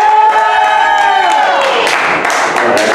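A comedy club audience cheering, whooping and applauding loudly at a stand-up show, a dense crowd roar with scattered shouts and clapping building throughout.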